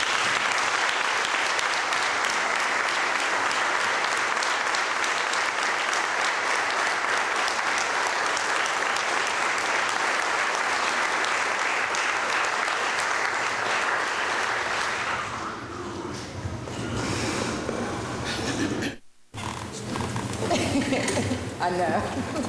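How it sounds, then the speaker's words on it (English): Sustained applause fills a council meeting chamber for newly promoted police officers, steady and full for about fifteen seconds before thinning into scattered claps and murmuring voices. "give you a round of applause collectively"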